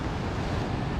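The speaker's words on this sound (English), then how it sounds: "the waves are a little bit more normal for me, at least what I'm used to seeing here in Prachuap daytime" Ocean surf at Prachuap Khiri Khan beach in calm daytime, a steady broadband wash of breaking waves with a low rumble, continuous and fairly loud, with no voices.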